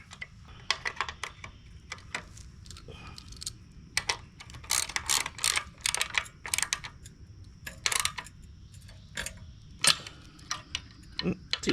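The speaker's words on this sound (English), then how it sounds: "I just need to get the bolt in there started" A bolt being fitted and tightened by hand on a garden tiller, quick clicking ratchet-like metallic ticks in irregular bursts, close and fairly quiet with pauses between.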